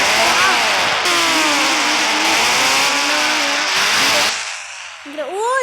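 A motorcycle engine in the mobile game Indian Bike Driving 3D revs loudly and steadily with rising and falling pitch sweeps, then cuts off abruptly near the end, leaving a brief softer engine whine.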